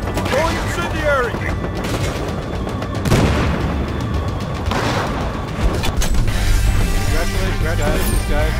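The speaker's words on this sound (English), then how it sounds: "Throwing incendiary!" An incendiary grenade is thrown and burns amid chaotic gunfire and booming explosions in a Battlefield Hardline multiplayer match, with a dense, continuous roar of combat and voices talking over it.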